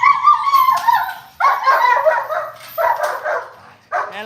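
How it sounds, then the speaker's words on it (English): A three-year-old German Shepherd whimpers and yips up close in repeated high, drawn-out whines with short pauses between them during table work in bite training. "Max is he's a 3-year-old German Shepherd, never been on the table"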